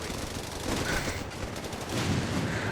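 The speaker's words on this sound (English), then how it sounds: "Stolen MG42 fighting against the stolen M1919 MG." Captured MG42 and M1919 machine guns trade fire in the Company of Heroes 3 World War II strategy game, sustained rattling bursts overlapping in a dense, moderately loud battle din.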